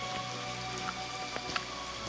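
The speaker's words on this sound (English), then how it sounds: "It's gone now to just normal rain." Ordinary rain, easing off after a heavier downpour, falls steadily beside a lake in County Tyrone, a constant close hiss with a few scattered louder drops and no speech.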